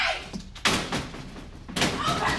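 Banging on a locked door in a domestic drama, heavy thuds and slams in bursts, close and loud, with shouting voices mixed in between the blows.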